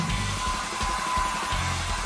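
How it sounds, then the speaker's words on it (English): A hair dryer blows in a hotel room, a steady close whooshing roar with a faint whine running throughout. "this blow dryer looks great"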